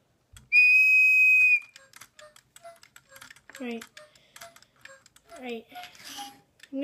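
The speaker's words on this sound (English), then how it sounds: "you can slip it on the whistle" A whistle used with electronic toy birds gives one loud, steady shrill note lasting about a second, followed by quieter chirps and a voice talking.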